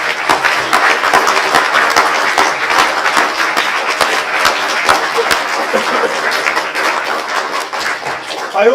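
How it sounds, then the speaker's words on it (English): An audience at a school declamation prize ceremony gives another round of applause, loud, close clapping with sharp individual claps standing out over the crowd's steady patter. "I think they deserve another round of applause"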